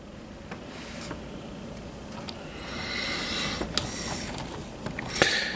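The plastic arms of a Transformers Legacy G2 Laser Optimus Prime toy are twisted around, giving faint, close clicking and ratcheting over soft handling noise, with a few sharper clicks near the end.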